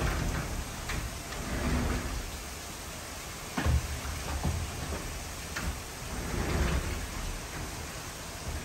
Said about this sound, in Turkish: Bugün fena fırtına var.